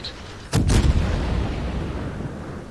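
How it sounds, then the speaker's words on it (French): Naval artillery fires in World of Warships, with the HMAS Perth cruiser in battle. A single loud, close boom with a doubled crack is followed by a long rumbling decay. "il a réussi à mettre un obus au but"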